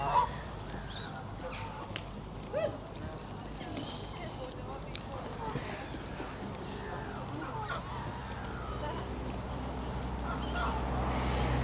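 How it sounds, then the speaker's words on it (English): Ducks and geese at a lakeside in the Lake District, scattered honks and quacks at a moderate distance under people talking and general outdoor noise. "A lot of ducks."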